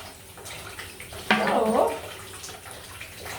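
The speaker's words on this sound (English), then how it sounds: "there's a possibility the water will come out here" Water bursts from a pipe during a home plumbing job, a sudden loud gushing splash that starts abruptly and lasts about half a second before easing off, with faint background noise around it.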